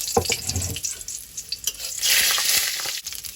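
Greens frying in oil in a kadai with dried chilli and cumin, a steady close sizzle with intermittent stirring clatter and scrapes, rising to a louder hiss partway through.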